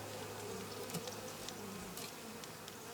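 Honeybees at a beehive during spring cleaning buzz in a steady, faint swarm drone, with individual bees whizzing past close by now and then.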